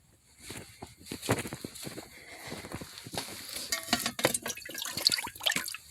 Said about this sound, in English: And then I'll put a little bit of water in it.